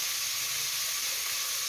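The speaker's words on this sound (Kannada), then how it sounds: "ಫ್ರೈ ಮಾಡಬೇಕು ಇದೆಲ್ಲ ಚೆನ್ನಾಗಿ." Loud, even sizzle of spices frying in a hot pan for mutton kheema ball sambar, a constant close hiss with no talking over it.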